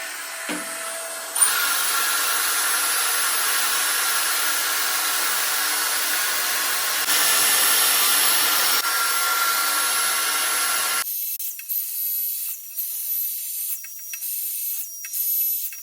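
A Dyson Airstrait hot-air hair straightener blows with a steady, loud whoosh that shifts pitch as its setting changes, then cuts off to a quieter, uneven hiss.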